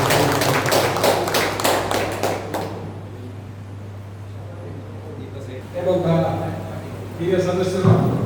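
Loud applause breaks out at a Lions Club 80th birthday celebration, a dense burst of clapping from the gathered members that fades away, followed by a voice speaking over a steady low hum.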